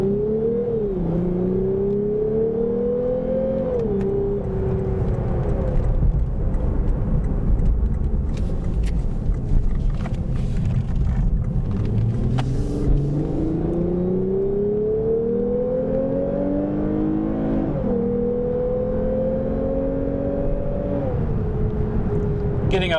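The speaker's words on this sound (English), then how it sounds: "that F Sport exhaust sounds really good in this thing" A 2021 Lexus IS 350 F Sport's sport exhaust drones and revs, pitch climbing through gears and dropping between shifts, steady and fairly loud.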